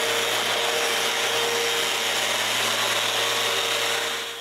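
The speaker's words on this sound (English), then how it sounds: "I chamfer all the sharp edges with the sander" An electric sander runs continuously on the edges of wooden bandsaw parts, a loud, steady whirring hum with a rough abrasive hiss throughout, close by and uninterrupted.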